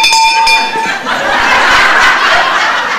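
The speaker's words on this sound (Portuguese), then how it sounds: "Eu só toquei o sino pra dizer que vai começar a aula" A hand bell rings at the start of class in a school comedy sketch, bright ringing tones that fade as laughter and chuckles take over.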